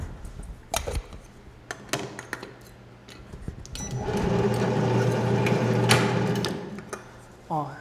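A can seamer sealing a lid onto a can for canned coffee, with a few clicks and taps from loading, then a steady mechanical whirring hum for a few seconds that winds down, and a sharp clack at the end.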